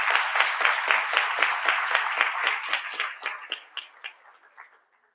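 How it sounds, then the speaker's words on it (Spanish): Audience applause at a political forum on sexual diversity, a strong burst of clapping that starts dense and loud, then thins into scattered claps and fades out over about five seconds. "Un aplauso, por favor, para Humberto Márquez."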